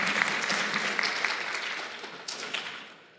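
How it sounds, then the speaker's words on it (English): Convention panel audience at a One Piece voice actors panel at Weebcon 2024 gives a dense, sustained round of applause that fades toward the end. "Round of applause, everybody."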